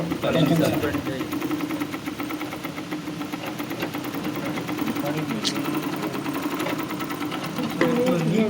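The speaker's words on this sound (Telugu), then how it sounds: "సాయిరామ్ ఓకేనా పడిందా స్టిచ్చింగ్" An overlock sewing machine stitches fabric with a steady, rapid mechanical whir that runs the whole time. It sits close and fairly loud, with a person talking over it.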